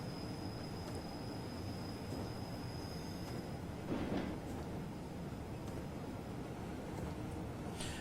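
A German train in Train Simulator 2015 on the Hamburg–Hanover route pulls into track 13, giving a steady rumbling rail drone with faint squeals and occasional clanks.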